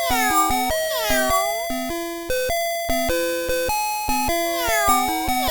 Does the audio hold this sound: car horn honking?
no